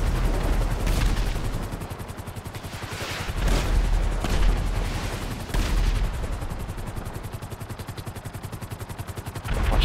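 Heavy gunfire and explosions in the video game GTA V, a dense, continuous barrage of rapid shots with louder blasts swelling every few seconds, close and loud throughout.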